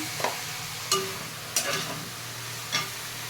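Potato and long beans frying in a pan with turmeric and salt, stirred: a low steady sizzle with four distinct scraping knocks of a spatula spaced a second or so apart.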